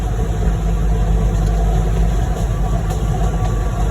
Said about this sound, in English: Starting to hear my truck rattle a little bit.